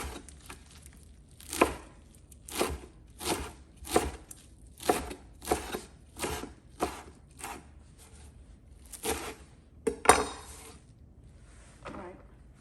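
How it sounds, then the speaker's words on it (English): A sharp knife slicing an African eggplant (gboma) into thin pieces on a board, a run of about a dozen crisp, evenly spaced cuts close by, with no talking. "I'm going to slice it thinly"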